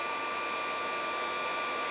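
A DC spindle motor runs smoothly at about 5,000 RPM, giving a steady, even, high-pitched whine with no change in speed.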